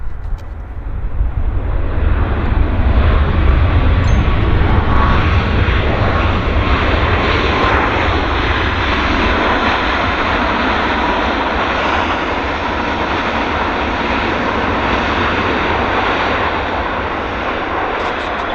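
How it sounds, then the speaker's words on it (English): An Air Canada Boeing 737 MAX lands at Vancouver airport, its engines a loud, steady roar that carries on unbroken for the whole stretch with no voices over it. "that's a nice landing on the Air Canada Max."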